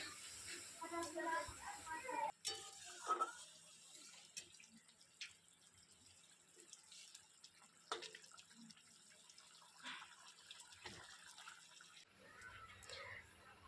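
Egg curry boiling in a pot on a home kitchen stove, giving a faint, steady hiss of simmering bubbles with a few soft pops and drips, while a voice speaks quietly now and then.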